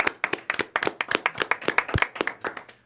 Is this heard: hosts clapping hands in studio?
yes